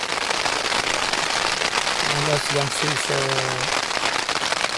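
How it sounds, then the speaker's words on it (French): Steady dense patter of rain drumming on a tent during a storm in the mountains, close and continuous, with a brief voice speaking over it midway. "Comme vous pouvez l'entendre, il pleut."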